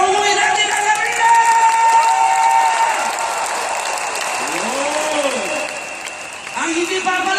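A large arena audience claps loudly and steadily, dense broadband applause with scattered voices and whoops, tapering slightly near the end before a fresh swell.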